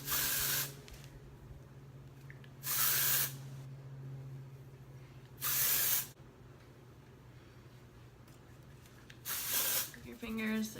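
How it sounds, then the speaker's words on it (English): Four short bursts of dry shampoo aerosol spray hiss close by, each lasting about a second, separated by quiet pauses with a low steady hum underneath. "So I'm just going to spray."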